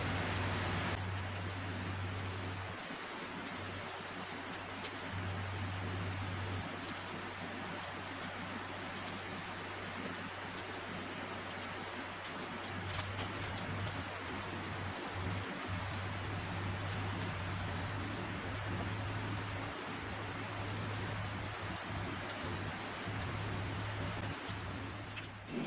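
Krylon flat white spray paint hissing from an aerosol can onto interior parts of a 1978 Trans Am, a continuous close, loud spray over a low background hum, with brief breaks and light rattles.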